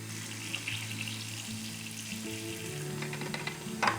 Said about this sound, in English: I'm going to fill up the tank a couple of times and dump it out.